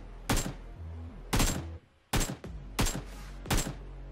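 Gunfire in the battle royale game PUBG/BGMI, five loud evenly spaced shots with short decays and a brief quiet gap midway, no talking.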